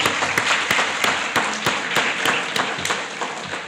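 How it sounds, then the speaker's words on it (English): Applause from the audience at a primary school Grade 7 prize-giving ceremony, a steady wash of many hands with a few sharper claps standing out, moderately loud and continuous with no talking. "Let's give them another round of applause."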